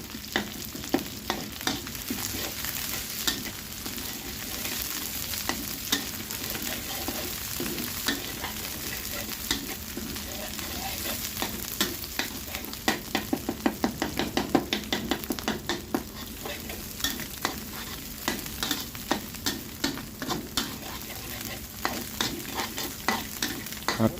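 Curry paste stir-fried in hot pork lard for spicy eel, a continuous sizzle with repeated scraping strokes of a spatula against the pan in an uneven rhythm, close and steady throughout.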